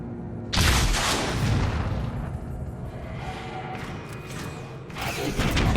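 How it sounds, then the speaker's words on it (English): A rocket launcher fires in the video game Transformers: War for Cybertron, a loud, booming blast with a rushing whoosh that trails off, followed by another swelling burst near the end. "And he also comes in with a rocket launcher."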